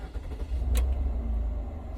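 Right after a throttle body replacement, a car engine turns over and catches with a short burst, then settles into a low, steady idle rumble, all within two seconds.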